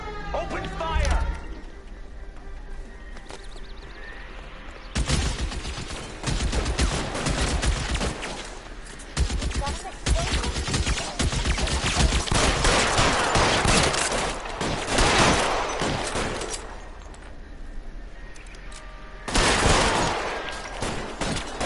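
Repeated bursts of gunfire in the crime video game L.A. Noire, from scattered single shots to long rattling volleys across the stretch, loud and close, with the player's voice talking over parts of it.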